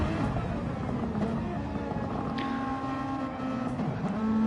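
A back-marker race car in a Super Formula racing video game at Laguna Seca: a steady, droning engine whine with a tonal pitch that holds loud and close throughout.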